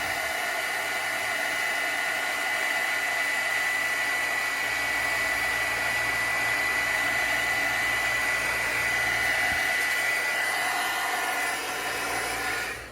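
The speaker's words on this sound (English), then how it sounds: "we're going to slow it down and start heating the embossing powder." An embossing heat tool blows hot air onto embossing powder with a steady, close, hair-dryer-like whir that holds constant for about thirteen seconds before stopping.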